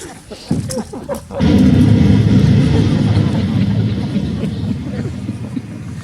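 A grenade goes off in a French military film scene: scattered voices and clatter lead into a sudden loud blast at about a second and a half, then a heavy, sustained low rumble that fills the rest of the clip.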